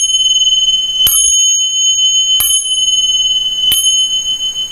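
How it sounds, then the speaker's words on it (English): Finger cymbals of different pitches ring in three evenly spaced strikes. Each bright, piercing tone sustains and overlaps the next, close and clear with no talking. "Also, finger cymbals have different pitches."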